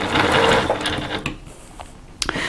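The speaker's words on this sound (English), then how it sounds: "Now I'm going to just back stitch that little bit there." A sewing machine back stitches a short run on a small purse, a brief close mechanical whirr that stops, then a short second burst after a pause.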